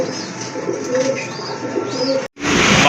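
Large Bengali pigeons of the Gorra type, chocolate-coloured, coo in a steady low murmur close by, with a brief gap near the end before the loud cooing resumes.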